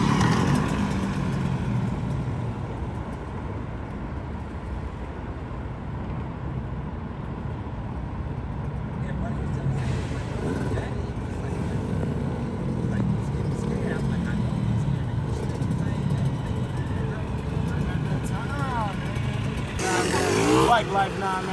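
An 85cc dirt bike engine drones and revs steadily throughout while being ridden, with voices talking over the engine noise.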